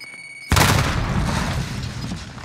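A frag grenade explodes in a video game, a sudden loud boom that rolls off into a long decaying rumble after a short quiet lead-in.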